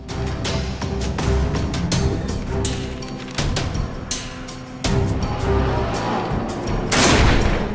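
Repeated shotgun blasts in the video game Risen 3, loud sharp reports firing at an irregular rhythm amid clashing combat noise, with no talk over them.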